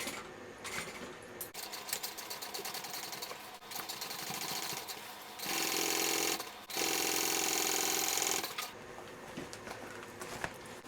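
Sewing machine stitching a zipper seam on a backpack, running in short bursts with pauses between them, and a few longer fast stretches of rapid needle patter. No one speaks.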